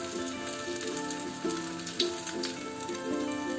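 Oil sizzles steadily in a pan on a medium gas flame as a bread uttapam fries, a soft, continuous crackle with a few brief louder spits.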